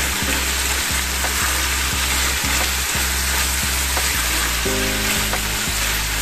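Beef salpicao sizzles loudly and constantly in a hot pan, with stirring adding rhythmic scrapes and clacks through the hiss.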